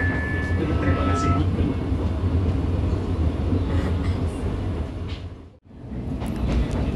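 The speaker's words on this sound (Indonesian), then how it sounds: "ini kereta api Tegal Bahari sudah melintas stasiun Pondok Jati dan persiapan melintas stasiun Jatinegara" The Tegal Bahari passenger train rolls along the rails between Pondok Jati and Jatinegara stations, heard from inside as a steady loud rumble with faint clatter, dipping briefly before resuming.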